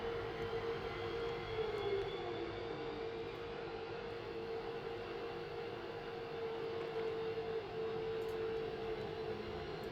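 An F-15E Strike Eagle jet engine in the DCS World flight game spools up toward idle after a cold start, a steady loud whine with a faint rising tone over a broad continuous roar, alone throughout.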